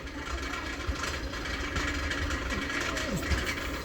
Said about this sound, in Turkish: arabanın sesi duyuyorsunuz. Egzoz.